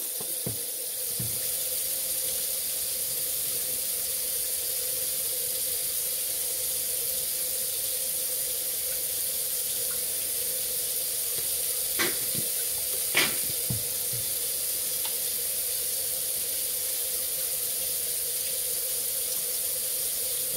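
Running water from a kitchen sink tap during hair washing makes a steady hiss and splash that lasts throughout, with a couple of brief clinks partway through.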